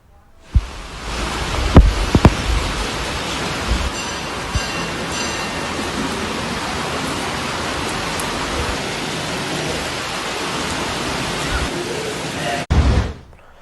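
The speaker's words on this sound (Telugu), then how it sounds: "హైదరాబాద్ సిటీని భారీ వర్షం ముంచెత్తుతోంది" Heavy rain pours over Hyderabad city, a dense, steady hiss that fills the whole stretch, with a few louder thumps near the start and end.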